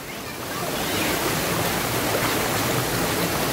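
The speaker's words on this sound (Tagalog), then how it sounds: "Lakas ng agos." A strong water current rushes at Malatongtong Falls waterfall, a loud, dense, continuous roar of falling water filling the whole clip close by.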